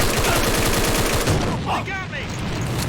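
Rapid automatic gunfire in the online shooter AVA rattles in a fast even burst, then gives way to scattered shots and game noise while a voice speaks briefly.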